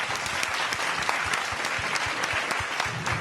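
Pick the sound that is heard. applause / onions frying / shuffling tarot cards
applause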